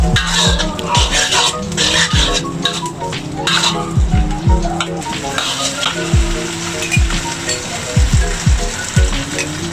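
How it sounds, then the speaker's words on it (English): Kway teow noodles stir-fried with shrimp in a hot pan, a steady loud sizzle broken by repeated scraping, clattering strokes of the spatula every second or so, with no talking. "you put some of kueh tiao in the pan and you mix together well."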